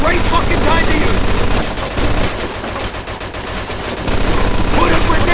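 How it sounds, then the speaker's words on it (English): Rapid machine gun bursts in the video game Mafia II, loud and dense rattling fire that dips briefly in the middle and then resumes at full intensity. "Looks like we found a machine gun!"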